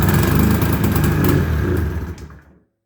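A 1997 Yamaha V-Max 500 snowmobile engine cranking without choke, a loud close rough clattering churn that runs for about two seconds and then dies away into silence.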